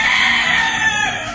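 A fighting cock rooster on a farm crows loudly and close by, one sustained strained call that trails off at the end.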